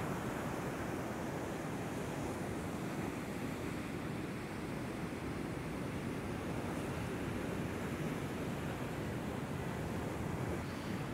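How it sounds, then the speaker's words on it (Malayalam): Sea waves break continuously on an eroded shore with scattered stones and broken geo-bags, a loud steady roar of surf mixed with wind rumble across the whole stretch, no voices. "തിര വരുന്ന നോക്കി, അത്യാവശ്യം നല്ല രീതിയിൽ തന്നെ തിരമാലകളുണ്ട് കേട്ടോ."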